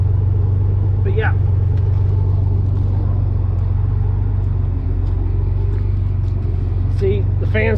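A Pontiac Fiero engine idles after being revved, with the cooling fan spinning down. The rumble is low, steady and close, with brief voice sounds in between.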